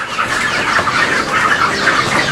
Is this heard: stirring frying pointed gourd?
no